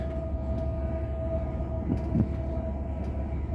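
Inside a moving Class 185 passenger train, a steady low rumble of wheels and motor runs throughout with a constant hum, and faint rattles and clicks rise now and then, with no voices.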